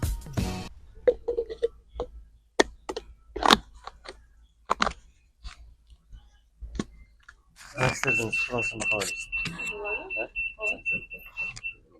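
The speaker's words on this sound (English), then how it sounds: "I have to see if I left an alarm on." An alarm goes off inside a bag, a steady high electronic tone that keeps sounding for several seconds after scattered knocks and rustles, with people talking over it.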